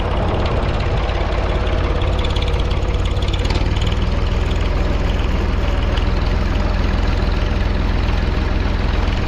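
Tractor engine running steadily at close range with a deep, heavy low rumble while a New Holland wagon of sweet corn silage is unloaded at the blower, continuous and loud throughout with no talk.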